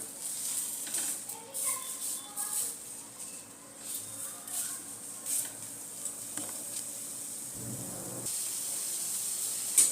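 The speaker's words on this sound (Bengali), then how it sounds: "টমেটোগুলো একটুখানি খুব সেঁকে নেব আর একটু" Tomatoes roast on a hot tawa for a chicken recipe, making a quiet, steady hiss and faint sizzle with small crackles and an occasional soft knock, heard up close without any talking.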